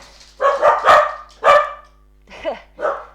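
A dog barks loudly and close by during a yoga class, about five sharp barks in uneven bursts with short quiet gaps between them.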